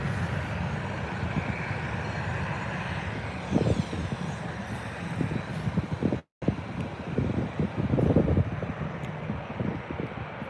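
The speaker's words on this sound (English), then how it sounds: "It's Lufthansa A320 on the way in." A Lufthansa A320 airliner on approach to Birmingham airport gives a steady broad roar mixed with gusty wind buffeting on the microphone, with one brief dropout partway through.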